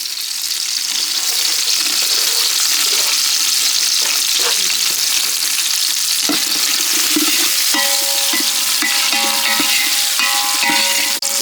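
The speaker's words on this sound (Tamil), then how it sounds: "வெங்காயம் நல்லா பொன்னிறமாக வதங்கணும்." Loud, continuous sizzling and crackling of onions frying golden in a hot pan with chillies for village-style country chicken uppu kari, with occasional stirring scrapes and clinks, close up.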